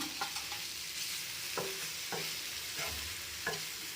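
Fish pieces coated in fried masala sizzle in a pan, with a steady hiss broken by several distinct stirring scrapes of a spatula, close and moderately loud, no talking.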